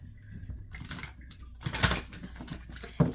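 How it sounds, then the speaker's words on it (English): Tarot cards are shuffled up close in short, riffling bursts of papery flicking, quiet with a few sharper snaps. "Let me give it a quick shuffle."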